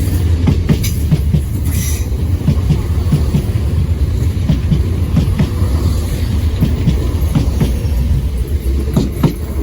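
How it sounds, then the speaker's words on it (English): A Southern Class 171 train passes close by at a station near Denmark Hill and Peckham Rye, giving a loud, continuous rumble with rhythmic clickety-clack from the wheels throughout. "the next train to pass by will be a Southern 171. Leading the way is 171802."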